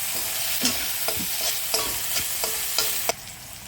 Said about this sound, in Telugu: మగ్గిపోయిన తర్వాత దాంట్లోనే పసుపు, కొంచెం అల్లం వెల్లుల్లి పేస్ట్, ఎండు కొబ్బరి తురుము వేసుకొని బాగా కలుపుకోవాలి